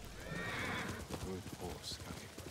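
A horse whinnies loudly up close in the video game Ghost of Tsushima, a shrill rising neigh followed by snorting and a few clopping hoof sounds.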